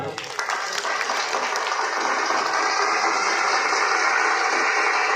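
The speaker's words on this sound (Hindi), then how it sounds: "तालियां बजा दो भाई" Crowd at a ceremony honoring senior citizens on a mahant's birthday in Hansi breaks into applause, a dense continuous roar of many hands clapping filling several seconds.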